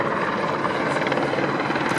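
A Westland Commando helicopter flies at a Fly Navy air show, its rotor beating in a steady, rapid chop over a continuous engine drone, loud and close for a brief moment.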